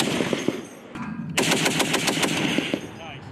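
A crew-served machine gun on a live-fire range fires fully automatic: a short burst, a pause, then a longer rapid string of loud, sharp reports close by, with faint voices in the background.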